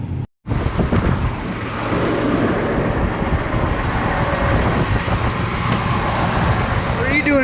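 A septic pumper truck runs steadily while pumping out a tank, a loud continuous engine and suction roar with a brief cut near the start, and no speech over it.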